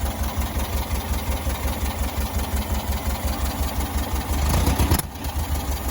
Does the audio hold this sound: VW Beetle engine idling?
yes